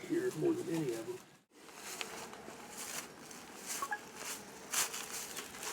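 A swarm of honey bees being caught outdoors, a dense, steady buzz hanging close throughout with brief louder swells, while a person talks near the start.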